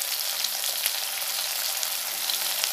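Salted potatoes frying in a pan for aloo begun torkari give off a loud, even, unbroken sizzle, a dense hissing crackle that holds steady throughout with no voices.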